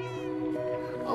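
Cats meowing in the video game Minecraft, a single drawn-out tonal meow up close, brief and clear with no talking over it.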